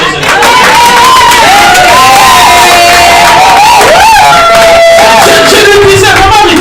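Church congregation cheering and acclaiming during a prophetic worship service, a loud sustained crowd roar with shouts, whoops and scattered clapping filling the room throughout.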